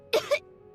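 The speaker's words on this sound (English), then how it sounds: "He kept coughing all the time, just like me." A Genshin Impact character gives two short, close coughs in quick succession, harsh and throaty, followed by quiet.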